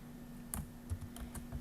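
Quick, light keystrokes on a computer keyboard while entering an Excel formula, a handful of clicky taps spaced irregularly and heard up close with no talking.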